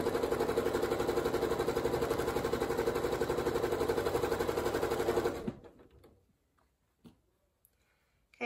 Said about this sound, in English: I don't want to waste your time here with you just watching me sew